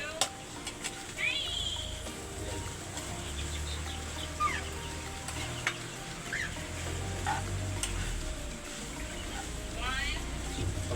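An egg fries in a pan with a steady low sizzle throughout, and faint clucking chickens and bird chirps sound in the background.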